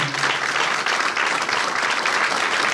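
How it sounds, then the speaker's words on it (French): A crowd at a charity gala in Brussels claps warmly, a continuous even wash of many hands heard from within the room and sustained at steady volume throughout. "J'aimerais vous demander d'applaudir très chaleureusement Madame Mireille pour cette initiative"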